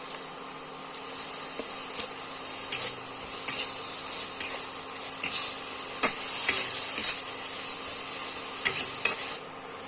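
Chopped tomatoes are stirred into a frying spice paste for a cauliflower and potato curry: a soft, steady sizzle runs throughout as a spatula scrapes and taps the pan in irregular bursts, near and alone.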